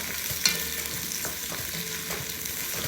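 Onions and curry leaves fry in oil in a pan as the base of a chicken and mushroom saloona. A close, steady crackling sizzle comes with a sharp clink near the start and repeated stirring scrapes.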